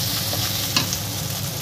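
Ground coriander, turmeric and Kashmiri chilli powder stirred and frying in a pan for soybean pulao, a steady close sizzle with soft scraping throughout, no talking.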